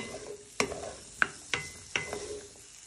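A wooden spoon knocks against a frying pan four times in an uneven rhythm as food is tossed, with a faint sizzle of frying underneath, close and fairly quiet.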